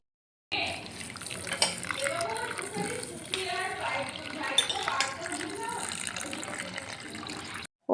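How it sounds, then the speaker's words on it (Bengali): Vegetables, including a tomato and a slit green chilli, washed under running tap water, a continuous splashing gush with faint voices in the background before it cuts off. "এদিকে সমস্ত সবজিগুলোকে ভালো করে ধুয়ে নিলাম"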